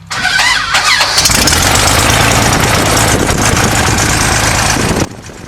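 A small propeller airplane engine cranks briefly, then catches and runs loud and steady at close range for about four seconds before cutting off abruptly.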